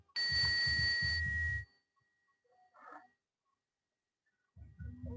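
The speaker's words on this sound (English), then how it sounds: "We're going to ring the bell real quick," A bell is rung once, giving a bright, ringing tone with a clangy attack that sustains briefly before cutting off, followed by near silence and a few faint sounds.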